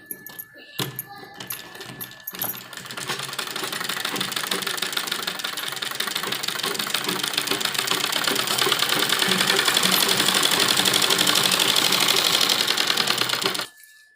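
Close up, a sewing machine stitches a net lehenga blouse, starting with a few brief stutters and then running fast and continuously for about eleven seconds before stopping abruptly.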